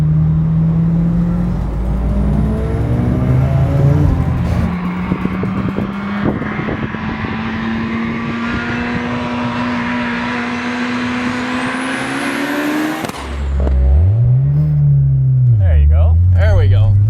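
A 550 WHP Nissan S14.5 240SX revs hard toward 11,000 RPM and holds a long rising wail before lifting off. A few short blips follow the climb, and speech is also present in the clip.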